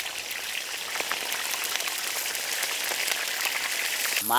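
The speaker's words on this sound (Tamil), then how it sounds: "மழை வேறு சாரில் போட ஆரம்பிச்சாமுக்கா." Steady rain falls in a dense, even hiss of countless drops that stays constant and fairly loud throughout, with no voices.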